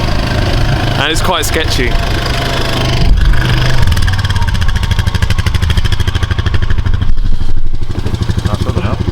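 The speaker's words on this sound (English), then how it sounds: "We're getting on the quad bike now." A quad bike engine runs on a farm in Devon, a loud, steady close-up rumble that rises slightly as it gets going, with people talking over it.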